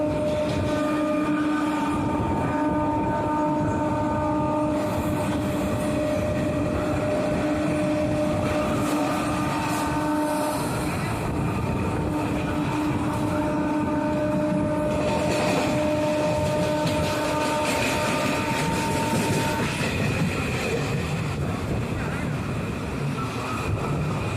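A fast Kolkata suburban local train on the Barrackpore line runs past, with a loud, continuous rumble of rail noise and sustained tonal whine from motors or brakes throughout, close by and unbroken.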